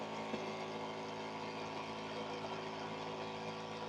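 A 12-volt DC high-pressure booster pump runs with no load, making a steady, even motor drone with a fine buzzing whine. It is close and continuous, with no changes in speed and no talking.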